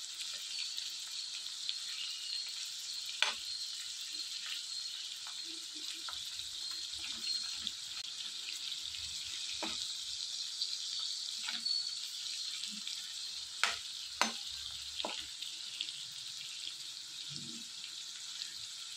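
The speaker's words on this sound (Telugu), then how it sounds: "ఇలా నూనెలో రెండు వైపులా కూడా తిప్పుకుంటూ ప్రతిదీ వేయించుకోవాలి." Pieces of dried fish fry in hot oil while being turned, giving a continuous soft sizzling hiss with scattered light pops and clicks throughout.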